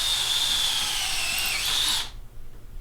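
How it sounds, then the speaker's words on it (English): Battery power drill boring holes during an elk mount alteration, a loud steady high whine with grinding for about two seconds before stopping abruptly, leaving faint room noise. "We're going to drill 2 right here."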